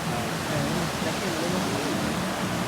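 A forest stream rushes steadily, a dense broadband wash of flowing water that stays loud and constant throughout, with no pauses.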